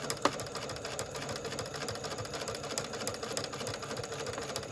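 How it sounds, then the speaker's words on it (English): A sewing machine stitching ribbon trim onto a tutu, running at a steady fast clatter for several seconds, close by and moderately quiet, with no talk over it. "And then just sew right over it."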